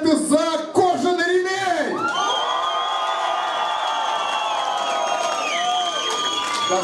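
A café audience at a comedy contest cheers and whoops: loud sustained shouting voices after a brief burst of clapping, filling the room close by.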